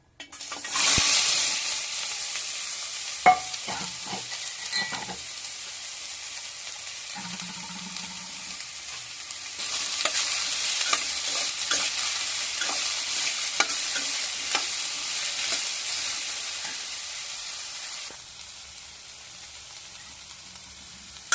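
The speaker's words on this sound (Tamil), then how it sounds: "வாணலியில் கொஞ்சமாக எண்ணெய் விடணும். அதுக்கப்புறம் காயை போட்டுக்கணும்." Bitter gourd stir-frying in a little oil in a wok, loud sizzle bursts as the pieces hit the pan, then steady frying with intermittent stirring clatter, the hiss swelling again midway before easing off.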